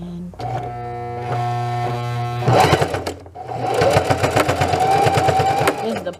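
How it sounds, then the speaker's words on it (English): A sewing machine stitching a pillow seam shut, its needle hammering in a fast, steady mechanical rhythm, close and loud, with a short pause between runs and faint voice in the background. "I kind of stuff the pillow underneath the pressure foot, just enough so I can sew that seam shut"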